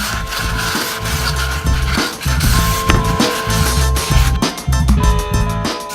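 Old liquid gasket residue is scraped and rubbed off the metal of a Nissan S14 engine's head and rocker cover area, giving continuous gritty strokes with short pauses and a few faint metallic clinks, close and loud.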